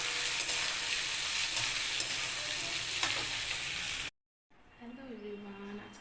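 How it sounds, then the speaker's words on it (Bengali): Onions frying in hot oil for a chicken dish, giving a dense, bright sizzle with stirring scrapes, close and steady for about four seconds before a brief silence, then a quieter sizzle under a voice. "তেলের মধ্যে পেঁয়াজগুলোকে দিয়ে দেবো। পেঁয়াজগুলোকে একটু লাল লাল করে আগে ভেজে নেব।"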